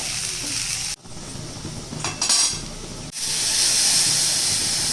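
Vegetables for sooji upma sizzle and fry in a hot pan while being stirred, a steady bright hiss broken by brief stirring scrapes and a short pause, close and continuous.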